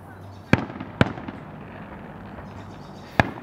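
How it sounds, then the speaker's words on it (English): Fireworks set off nearby on the evening of July 3rd pop in four sharp, loud bangs, two close together early and two near the end, with a quiet outdoor background and no speech. "there are a bunch of rednecks who wanna put off fireworks while I wanna make this video"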